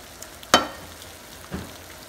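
Beef frying in a pan for carne de res en salsa verde spits out two short, sharp sizzling bursts about a second apart over a low, quiet background hiss.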